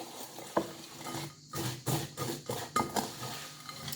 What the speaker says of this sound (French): je remue encore un peu